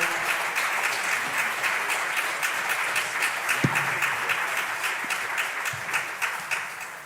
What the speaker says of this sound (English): Keep clapping, please. Keep clapping.